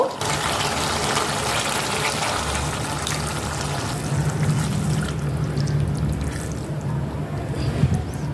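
Water pours steadily into a curd fish curry (Bengali doi katla, made wedding-style) for the full length, a continuous loud rushing fill with a slight deepening toward the end.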